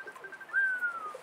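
A pet pigeon found on the street, with a ring on its leg, gives a single soft, thin whistling call up close in a quiet room.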